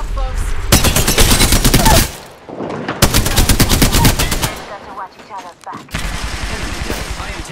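Bursts of loud, rapid automatic gunfire in Apex Legends come in three long volleys separated by short gaps, with softer rattles and scattered shots between them.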